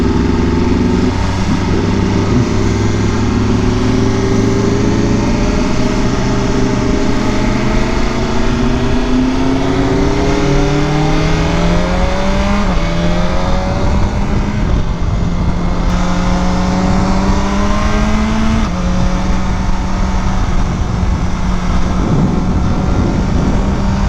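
BMW M1000RR superbike engine, loud and close throughout while riding, its revs climbing and dropping repeatedly as it pulls through the gears in a continuous, aggressive roar.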